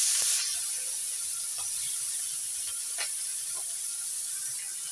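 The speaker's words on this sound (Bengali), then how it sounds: "এবার নুন হলুদ দিয়ে মেখে নেওয়া চিংড়ি মাছগুলো ভেজে নিচ্ছি।" Salt-and-turmeric-coated prawns fry in hot mustard oil with a loud burst of sizzle that settles into a steady, close hiss, broken by a few faint crackles and pops.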